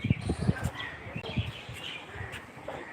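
A green bird at the Bangladesh National Zoo in Dhaka gives repeated chirping calls in short bursts, fairly close, over a murmur of distant voices and background bustle.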